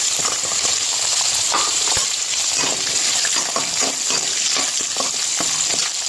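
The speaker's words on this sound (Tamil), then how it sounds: "சுண்டக்காய் வதங்கிறதுக்கு கொஞ்சம் டைம் எடுத்துக்கும் ஸோ அதனால் இது நல்லா வதக்கிட்டு" Turkey berries and small shallots frying in oil, a continuous dense sizzle with soft scraping stirs throughout, close and steady, no voices.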